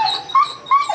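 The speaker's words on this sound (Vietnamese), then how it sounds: "Còn hai con này là đều là con chó bản." A male bobtailed native Vietnamese dog gives two short, close, high-pitched whines or yips in quick succession.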